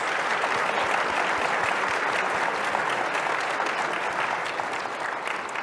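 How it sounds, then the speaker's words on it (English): A conference audience in Toronto gives its panelists a steady round of applause, a dense wash of many hands clapping evenly for several seconds, heard from within the crowd, with no speech. "Let's get a round of applause for our panelists."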